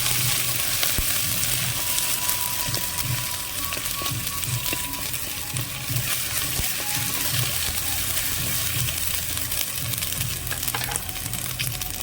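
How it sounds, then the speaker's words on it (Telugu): Onions and ginger garlic paste fry in hot oil for a chicken curry, giving a steady, close sizzle with soft stirring scrapes and occasional bubbling, no voices over it. "ఇవన్నీ వేగిన తర్వాత మిగిలిన ఉల్లిపాయ ముక్కలు ఏవైతే ఉన్నాయో ఇందులో వేసేసుకుందాం"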